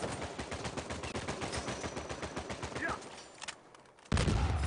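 Rapid automatic AK-47 fire in Uncharted 4 multiplayer, loud dense bursts of rattling shots for about three seconds, then a lull and a sudden heavy blast or impact near the end.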